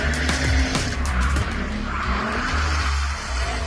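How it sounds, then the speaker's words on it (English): A domestically built Mercedes spins in tight circles at high speed during South African spinning, its tires screeching and skidding over a loud, revving engine for the whole stretch. "spinning, a South African motorsport that involves driving cars in circles at high speeds"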